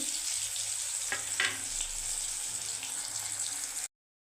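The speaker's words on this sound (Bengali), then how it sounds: "এরপরে আমি গাজরটা ভেজে নিচ্ছি জলটা ঝেড়িয়ে" Carrot slices, shaken free of water, fry in oil with a steady bright sizzle and a couple of sharper spitting bursts, then the sound cuts off to silence just before the end.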